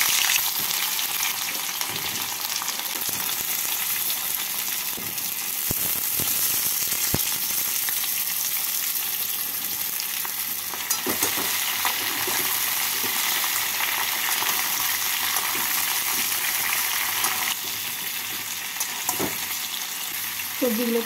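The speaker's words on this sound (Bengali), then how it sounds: "সবজিগুলোকে হালকা করে ভেজে নিলাম।" Vegetables fry in a pan with nigella seeds and two green chillies, a continuous close sizzle with occasional soft stirring scrapes and light clinks throughout.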